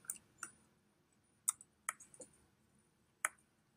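Computer keyboard keys being typed to enter a course number, a handful of sparse, faint clicks spread unevenly, close by with no talk.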